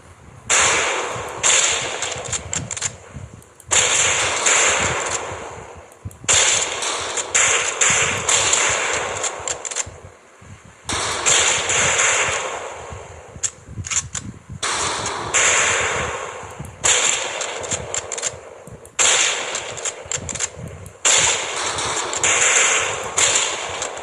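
Rifle fire at targets on a shooting range in the video game Medal of Honor Pacific Assault: loud, harsh bursts of gunfire repeat in clusters with short gaps between them, and no voices are heard.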